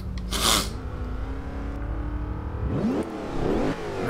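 A supercharged 2005 Mercedes-Benz SLR in Forza Horizon 2 revs hard, its engine note climbing and falling through gear changes with a steady whining drone, close and loud with no talking.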